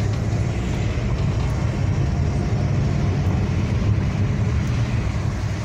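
Heavy road traffic in Saudi Arabia, near the airport in Jeddah, gives off a steady, loud low rumble of passing vehicles that holds constant and unbroken throughout.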